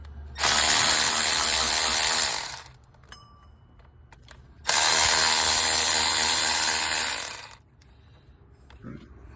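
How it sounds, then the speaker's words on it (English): A hand ratchet with a 15 mm socket loosens a bolt on a Pontiac G8 during alternator work, giving two sustained bursts of rapid pawl clicking, each about two to three seconds long and close to the microphone, separated by quieter pauses. "These could probably come out too with the 15 socket. I just loosening it."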